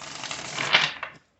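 Tarot cards are riffled and shuffled in a soft papery flutter that builds to a brief louder snap and then stops, close by and quiet.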